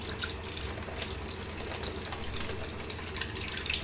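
Lukewarm water runs steadily from a tap over a Qilive coffee maker filter being rinsed, giving a soft, continuous splashing hiss with light spatters, fairly quiet and close.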